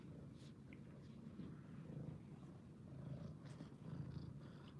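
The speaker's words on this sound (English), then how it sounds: "That's my cat." A house cat purrs steadily and close by, a continuous low rumble at quiet level with no talk over it.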